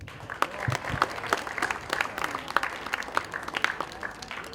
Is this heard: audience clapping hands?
yes